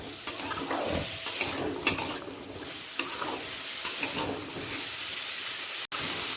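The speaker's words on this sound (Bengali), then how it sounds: "দিয়ে একটু ভালো করে ভেজে নেব খুব জোর তিরিশ থেকে মিডিয়াম টু হাই ফ্লেমে ভেজে নেব" Winter vegetables such as cauliflower and cabbage fry in a pan over a medium-high flame, with a steady sizzle and hiss broken by repeated scraping and stirring clatters, close and continuous.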